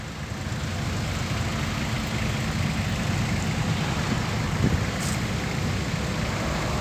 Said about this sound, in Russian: Вот такой вот трактор.